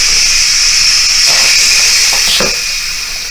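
Steam venting hard from a pressure cooker after cooking rice, a loud continuous hiss that holds steady and tapers slightly at the end, with faint rattles underneath.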